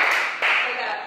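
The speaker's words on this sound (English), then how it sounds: "we do a conference clap. That's two claps and they're in." Two quick hand claps in unison from a small group in a meeting room, close and sharp, with the second clap a little louder.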